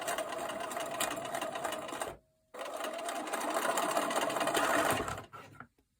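A sewing machine stitches quilt fabric pieces in a fast, even mechanical run, stops for a moment, then resumes stitching before halting with a final short burst.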